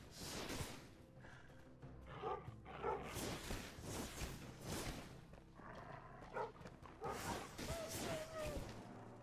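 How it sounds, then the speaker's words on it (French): Dog in the game Enshrouded barking and yipping in several short bursts amid whooshing combat sounds, fairly quiet, with people talking over it. "Il y a un chien là."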